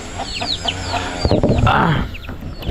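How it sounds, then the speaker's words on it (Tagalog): Rhode Island Red chickens cluck and chatter close by, with short chirping calls from chicks mixed into a busy farmyard background. "dito pala natutulog yung kanilang manok, oh. Yung Rhode Island."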